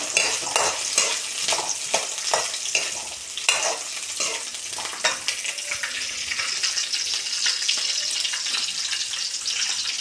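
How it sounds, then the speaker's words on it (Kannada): Sprouted beans, onion and garlic frying in a pan in a village kitchen, with steady sizzling and repeated scraping stirs of a spoon, close and fairly quiet, with no talk. "ಕಾಳು ಈರುಳ್ಳಿ ಬೆಳ್ಳುಳ್ಳಿ ಫ್ರೈ ಇದೆ"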